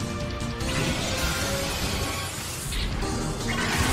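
An attack lands in a Pokémon Battle Revolution battle with a loud crashing, shattering impact, followed by a dense, sustained burst of effects noise filling the whole stretch.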